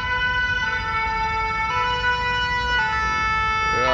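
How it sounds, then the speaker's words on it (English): Loud, steady siren of a French Sapeurs-Pompiers rescue ambulance, holding a continuous electronic wail with brief pitch changes, close by amid traffic noise. "The rescuer, that's an ambulance, Sapeurs-Pompiers."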